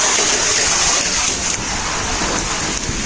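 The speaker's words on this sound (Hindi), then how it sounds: "ये देख लो पानी यार कितना तेज बह रहा है" Fast-flowing rainwater after heavy rain rushes loudly and steadily close by, a dense broadband hiss with a slight dip partway through, with no voices over it.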